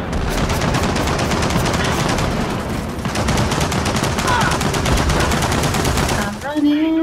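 In Gears of War 4, an enemy machine gun nest fires in long, dense, rapid bursts, loud and close, sounding almost continuously with a short break near the end where a voice calls out.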